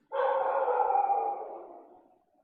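A dog lets out a single drawn-out whine-like bark or howl close by, sustained for about a second before tapering off, with quiet around it.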